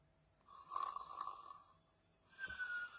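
Cartoonish snoring in a children's story: two soft, drawn-out breaths, a nasal inhale and then a whistling exhale, quiet and alone with no talk.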